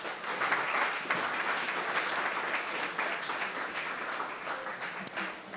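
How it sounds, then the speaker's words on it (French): An audience applauds a lecturer after her talk, dense sustained clapping from a full room that holds steady for several seconds, with no talking over it. "sous vos applaudissements"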